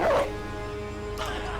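A dog in a combat video game gives a short bark at the start and another quieter yelp about a second later, over a steady background hum.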